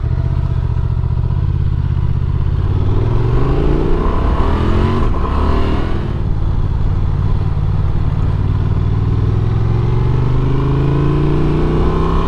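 A 2024 Honda Transalp 750 adventure motorcycle accelerates steadily on a road, its loud engine note climbing through gears with a brief dip mid-run before rising again, close and continuous with wind rush.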